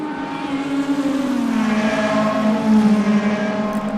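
Race cars from a racing video game battling at Mid-Ohio, engines whining with tonal pitch that climbs and falls through shifts, a steady close drone with several cars blending, no commentary audible.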